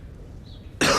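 A single sharp, loud chesty cough bursts out near the end of a quiet moment in a Strepsils throat lozenge advertisement, close and abrupt.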